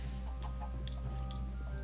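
A Minecraft chicken clucks in short, soft bursts over a steady hum of game background sound.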